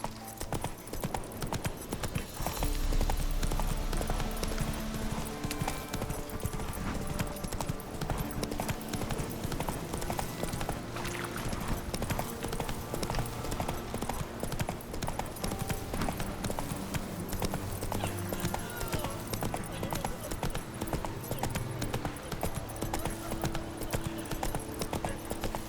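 A horse gallops in The Witcher 3: Wild Hunt, with a fast, steady clip-clop of hooves running throughout over game ambience.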